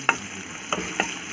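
Onions frying in a little oil with turmeric in a pan for an Assamese fish-roe dish, with a steady sizzle and three sharp scraping stir strokes standing out.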